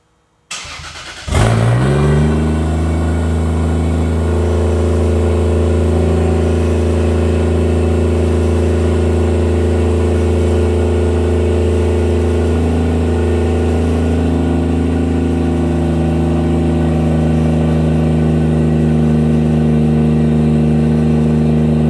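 A Toyota Aristo with a 2JZ straight-six and straight-piped exhaust cranks over, catches abruptly and settles into a loud, deep, rumbling idle that holds steady and close for the remaining twenty seconds.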